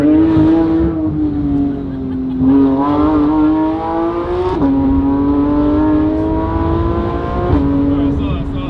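A supercar's engine screams through hard acceleration mid-turn as the rear fishtails, the loud revving rising and falling in repeated surges with sharp shifts, close up and dominant.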